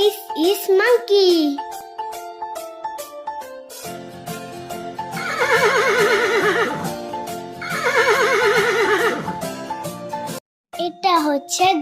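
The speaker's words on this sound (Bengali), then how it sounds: "এটা হচ্ছে ঘোড়া।" A horse sound effect for an animal-names lesson: a rising whinny opens, then two long shaky neighs, loud and close, with a voice speaking between them.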